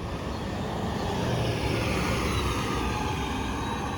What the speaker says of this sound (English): That pesky Nova LFS bus from 2017